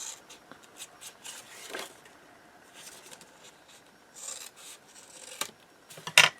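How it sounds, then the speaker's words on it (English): Scissors snip through a folded sheet of paper up close, a few soft rasping cuts with light rustling between them and one sharper snip near the end. "I'm just going to fold this in half and cut it"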